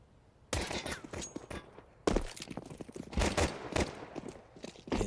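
Gunfire in a professional Counter-Strike match between sAw and FlyQuest at PGL Cluj-Napoca 2025, with sharp shots and rapid clusters in two loud bursts.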